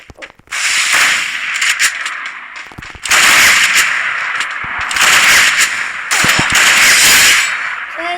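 Rapid automatic gunfire from a shooter video game blasts away at an enemy in loud, dense bursts, with a short pause before the firing resumes in long sustained volleys.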